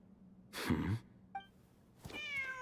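A cat lets out a clear, drawn-out meow after a breathy huff and a short chirp, fairly quiet and up close, in the video game Genshin Impact.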